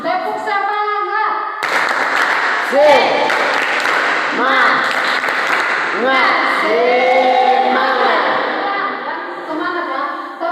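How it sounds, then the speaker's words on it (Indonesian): Seventh-grade students in a classroom perform a rhythmic spirit clap, with short bursts of clapping spread through the stretch and loud group chanting and children's voices throughout. "Semangat ya. Tepuk semangat."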